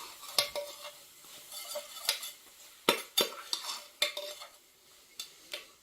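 Onions caramelize in a pan with a soft sizzle underneath as a utensil scrapes and clacks against the pan in irregular strokes, close by.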